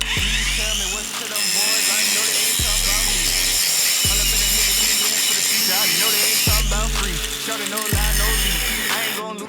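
A Stromo cordless angle grinder runs on its second, faster speed setting, whining loudly and steadily with a rattling, ratcheting edge. Someone talks over it.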